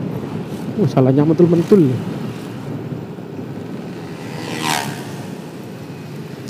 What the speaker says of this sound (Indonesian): Wah, anginnya memang kenceng di sini